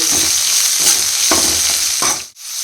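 Vegetables stir-fry in oil with salt, sizzling loudly and steadily while a utensil scrapes and tosses them in rhythmic strokes about every half second, close up with no speech.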